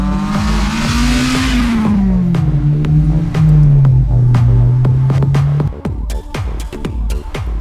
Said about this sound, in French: cet infatigable mécanique, grâce à son système VTEC de distribution variant en fonction de la charge moteur, atteint des régimes de 8000 tours minute